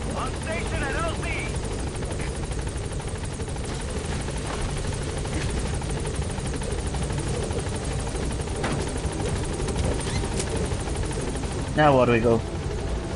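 Pequod, the helicopter in Metal Gear Solid V: The Phantom Pain, holds on station at the landing zone. Its rotor drones steadily throughout, a player speaks briefly over it, and a radio voice cuts in near the end.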